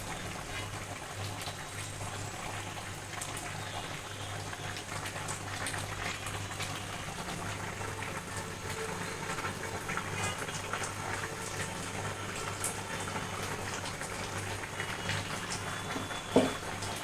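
Rohu fish and vegetables simmer in a pot on a home stove, giving a steady low bubbling and hiss that runs evenly throughout with no talk, plus one brief clink near the end.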